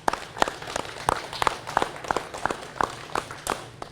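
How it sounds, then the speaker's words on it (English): A small group at an award ceremony claps steadily for a few seconds, the claps loud and close with an uneven, lively rhythm and no one talking. "Let's have another round of applause."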